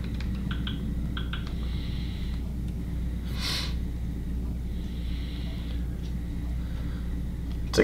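Typing on a Logitech K380 Multi-Device compact keyboard: soft, quick key clicks in short bursts over a steady background hiss, with a brief louder rustle partway through.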